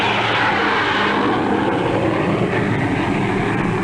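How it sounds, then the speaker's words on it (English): A jet airliner flies overhead as a loud, steady, broadband engine roar that fills the whole clip without letting up. "Huge airliners carry into the sky each day an ever larger tonnage of cargoes and passengers."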